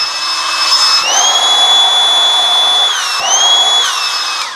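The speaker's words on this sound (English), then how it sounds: "you could use this for a vacuum bag, and you can kind of hear the suction on that" A Tropo portable air pump sucks the air out of a vacuum bag with a loud, steady motor whine that dips and rises in pitch as the load changes, running without a break.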